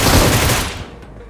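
Gunfire in the BGMI (PUBG Mobile) video game, a loud close burst of rapid automatic shots that quickly fades into a short decaying tail.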